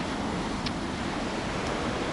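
Sea waves wash onto the beach right beside Adler railway station in Sochi, a steady broadband roar of surf with wind, continuous and fairly loud, with no talking.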